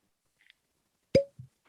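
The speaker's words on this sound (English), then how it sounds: "All right, cork pop." A cork pops sharply from a bourbon bottle in a quiet room, a single close, loud pop followed by a brief soft thud, with faint small clicks just before.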